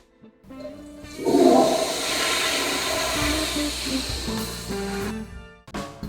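A toilet flushes close by with a loud rushing surge of water that swirls and drains steadily for several seconds, then cuts off abruptly as the tank refills.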